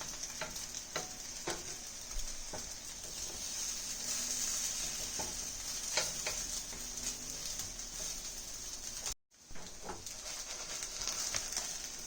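Bread pieces for French toast kabobs fry in a pan, a steady close sizzle with occasional soft scrapes and clicks as they are stirred, continuing alone for the whole stretch apart from one brief dropout.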